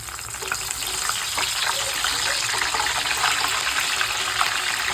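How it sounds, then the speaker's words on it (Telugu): Ingredients for boondi mixture fry in hot oil until reddish, giving a continuous, fairly loud bubbling sizzle with faint stirring underneath. "ఇవి అయితే బాగా ఎర్రగా ఫ్రై చేసుకోవాలి"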